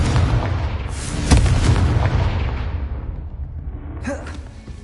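A Confringo fire spell blasts in Hogwarts Legacy on PS5, a loud booming burst with a rumbling tail that fades over several seconds, followed by a brief whooshing flare near the end.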